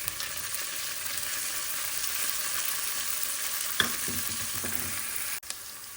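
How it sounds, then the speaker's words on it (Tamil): Onions and chilies sizzle and fry steadily in a pan while being prepared for Sri Lankan kothu roti, a continuous close hiss broken by a few sharp stirring scrapes and clanks near the end. "வெங்காயம் வதங்கிட்டு அதோட மிளகாய் சேர்க்க போகிறேன்."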